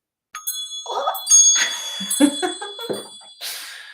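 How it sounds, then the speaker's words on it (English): A wind chime rings out in a cluster of bright, shimmering metallic tones that overlap and slowly fade, heard close and alone. "let's call in spirit with a little bit of wind chime chime"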